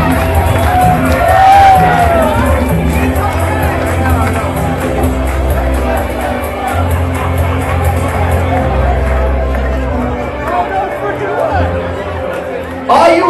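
Wedding guests on a dance floor cheer, whoop and chatter loudly as a crowd, with shouts rising over the babble and music underneath, waiting for the bride and groom's entrance.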